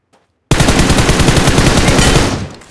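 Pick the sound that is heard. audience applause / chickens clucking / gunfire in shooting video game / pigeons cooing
gunfire in shooting video game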